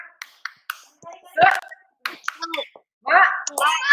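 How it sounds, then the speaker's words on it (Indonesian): A class of children clapping a rhythmic cheer together in a classroom, a patterned series of hand claps in short bursts, fairly close, mixed with young voices. "Tepuk semangat"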